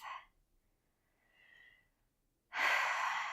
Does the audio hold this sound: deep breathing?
yes